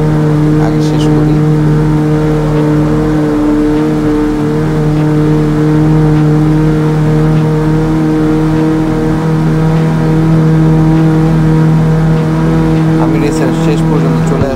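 Racing cars in the CarX Street video game roar continuously, engine tones holding steady with brief shifts and a burst of acceleration near the end, loud and upfront with a voice talking over them.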